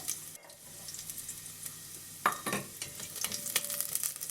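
Garlic dropped into hot olive oil on a hot stovetop hob sizzles and spits steadily, with a sharper burst of frying as it hits the pan, plus occasional stirring clicks, close and moderately loud with no talk.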